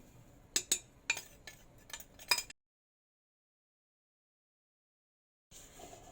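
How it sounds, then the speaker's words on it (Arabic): Dry bread ingredients stirred in a bowl for a homemade loaf, heard as a few close, sharp clinks and scrapes in a short burst, then silence before faint renewed stirring at the end. "نخلطو هاد لي 3 انغريديون سيك"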